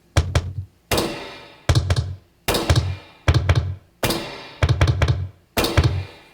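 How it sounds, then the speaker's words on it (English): Wooden tick and tock samples, sourced from secondhand-store objects, repeat in a steady loop: seven sharp, close knocks in quick clusters, each with a short hollow thud and a brief decay, alone with no other sound. "I really love like wooden sounds, and I came up with these two sounds that make a tick and a tock sort of sound."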